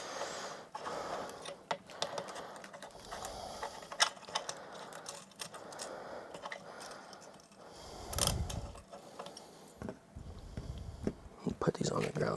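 Bolts are undone on an Anda Seat Kaiser II office gaming chair, with scattered clicks, metallic clatter and handling noises under ongoing speech.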